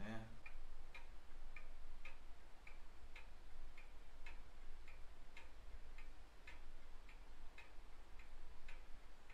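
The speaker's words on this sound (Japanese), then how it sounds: "壁掛け時計の音もいいですよね。" A wall clock in a quiet gallery café ticks steadily and evenly, faint against soft room tone, with a regular beat running through the whole stretch and no talk.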